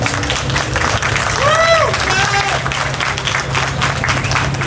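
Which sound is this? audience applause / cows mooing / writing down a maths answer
audience applause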